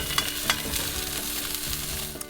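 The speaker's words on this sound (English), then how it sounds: "Heat up some peanut oil with a few slices of garlic in a large pot or pan." Garlic slices fry in hot peanut oil in a large pot or pan, giving a steady, close sizzle with small crackles and light stirring scrapes throughout, moderately loud, with no talk.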